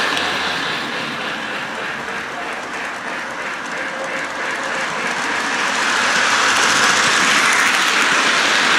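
Christmas toy train running on its track, a steady rattling clickety-clack that holds close and fairly loud throughout, growing slightly louder toward the end, with no voices.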